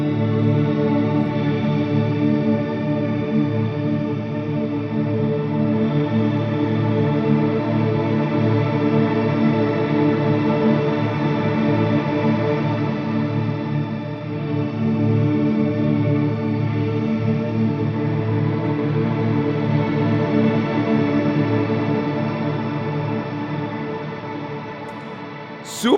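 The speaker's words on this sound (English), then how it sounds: "play my D major chord, and you're going to hear the difference as I add it" A D major chord swells into a dense, sustained ambient wall of sound as a shimmer effect is blended in with the mix knob, holding steady and loud for the whole stretch without any talking.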